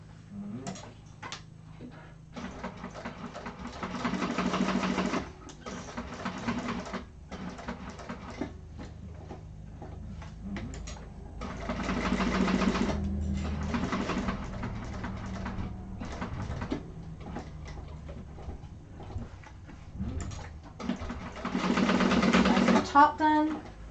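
A sewing machine stitches a fabric wallet along quarter-inch lines, pivoting at the corners; bursts of rapid mechanical whirring start and stop repeatedly, close and fairly loud, with pauses between runs.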